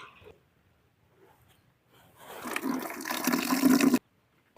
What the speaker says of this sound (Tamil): பருப்பு சுத்தம் பண்ணிக்கலாம்